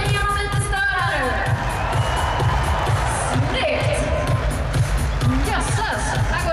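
A packed arena crowd at a junior obstacle bandy final cheers steadily for a young player, a loud continuous roar of voices and whoops with children shouting, and an announcer's voice cutting through the din.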